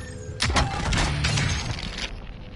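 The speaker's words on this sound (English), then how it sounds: "Heard more fucking glass break." Glass shattering in a video game, a loud burst of breaking glass with scattered tinkling fragments that trail off over about two seconds, with no voices over it.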